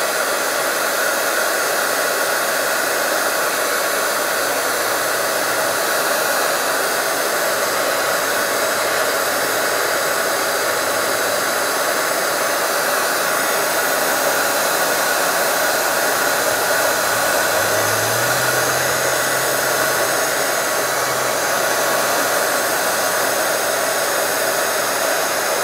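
Heat tool blowing over WOW embossing powder, a steady loud whooshing hiss of hot air running unbroken from start to finish, close up with no talk.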